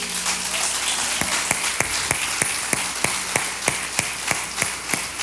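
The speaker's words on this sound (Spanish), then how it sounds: "Le damos un fuerte aplauso a cada uno de ellos" A church congregation claps in a steady, rhythmic beat, sharp regular claps over a dense, noisy background of the crowd.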